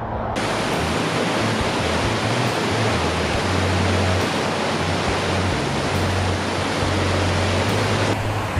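A waterfall by a river, heard from the top: a loud, steady, continuous rush of falling water that fills the whole stretch without change or voices.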